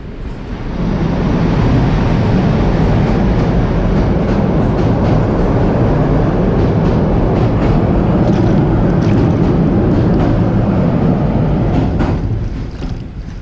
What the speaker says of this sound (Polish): No, pociąg